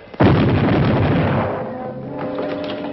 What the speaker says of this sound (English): Fire a broadside.